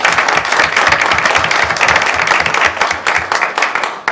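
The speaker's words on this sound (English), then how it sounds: "Let's give Representative Driscoll a round of applause" Audience at a Saline city council meeting applauds a representative, steady dense clapping filling the room for the full few seconds, loud and close.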